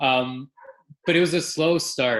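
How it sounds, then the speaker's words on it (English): Dogs bark in the background of a room, short bursts mixed in with a man's speech at close range. "So you can probably hear my dogs in the background."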